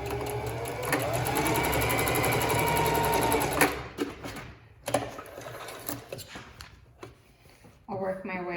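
Sewing machine stitching felt for a panda tote, a rapid, steady stitching chatter for several seconds that stops, then a few quieter handling clicks and bumps as someone speaks.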